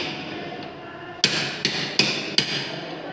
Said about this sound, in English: cut the surface extra material by applying power, by applying force with the help of a hammer